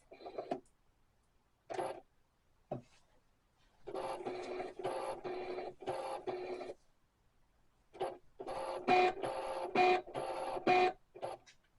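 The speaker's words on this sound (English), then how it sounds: "So I'm going to press print" An inkjet-style printer feeding and printing a vinyl sticker sheet, with short mechanical starts, then long bursts of whirring carriage passes punctuated by clicks and faint squeaky tones, close and loud with no talking.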